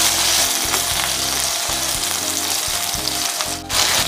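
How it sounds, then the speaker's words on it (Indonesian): Sambal ingredients fry and sizzle steadily in a hot pan over medium heat, with a constant crackling hiss and periodic scraping thumps as they are stirred, close and continuous, with no talking. "Digoreng sampai lebih layu lagi ya. Apinya sedang saja. Sampai terus diaduk-aduk ya."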